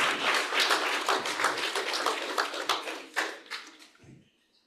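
Guests at an 80th birthday surprise party break into applause and cheering, a dense wash of clapping that holds steady for about four seconds, then fades out quickly.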